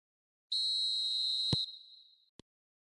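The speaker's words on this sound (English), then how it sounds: "Whistle goes, and we start the second half." A referee's whistle starts the second half of a football match: one long, steady, shrill blast that tails off, followed by a soft thud and a short, sharp click. It is fairly faint, with no voices.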